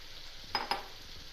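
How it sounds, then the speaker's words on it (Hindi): Potatoes dropped into a pan of fried chicken for aloo chicken korma, giving two quick close sizzling bursts over a faint steady frying hiss. "अब इसमें आलू भी डाल देते हैं।"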